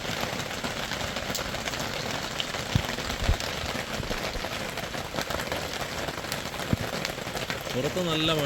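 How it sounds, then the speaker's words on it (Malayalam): Heavy rain falls outside, drumming on surfaces as a constant hiss with scattered sharper drops and thumps, while a voice speaks faintly underneath. "പുറത്ത് നല്ല മഴ"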